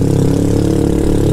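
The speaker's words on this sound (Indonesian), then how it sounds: "Setelah Tio, motor ini rasanya punya suara yang jauh lebih asik. Suaranya lebih geraung-geraung ya. Padahal ini knalpot standar loh mas bro" A Scomadi Technica 200i scooter engine on its stock exhaust runs loud and close, giving a steady throbbing, rumbling burble with a fast regular pulse and no voices.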